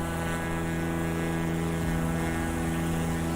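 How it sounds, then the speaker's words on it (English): An airplane passes outside with a steady, fairly loud propeller-like drone that holds a constant pitch and stays continuous for the whole stretch, with no talking over it. "Plane outside a bit loud."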